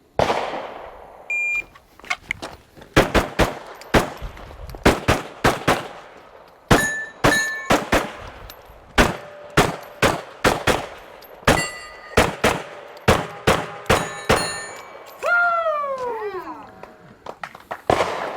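Rapid strings of sharp gunshots crack out loud and close during a shooting competition stage, in quick bursts with brief pauses, and a whistled falling tone near the end.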